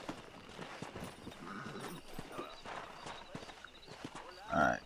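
Rhythmic horse hoofbeats clip-clop at a steady trot beneath low ambient sound in the video game Red Dead Redemption, with a brief animal snort or whinny near the end.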